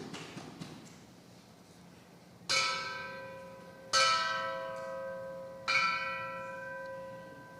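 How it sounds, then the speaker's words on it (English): Church bell rung by hand during a Sunday service, three separate clear strikes, each with a long, ringing, slowly fading tone, moderately distant in a quiet room with no talk. "Would someone like to ring the bell?"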